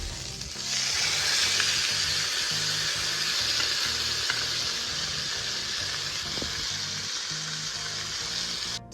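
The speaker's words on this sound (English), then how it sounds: "Now you're gonna go ahead and flip it and let it cook uncovered for" A dense, loud, steady hiss of rosemary salmon searing in a hot pan after being flipped, cooking uncovered, with one or two faint clicks over the continuous sizzle.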